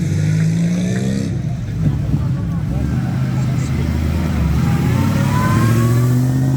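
Engine of a collectible Bugatti-related car brought from Switzerland, running steadily nearby with a low rumbling drone that swells slightly, while people talk over it.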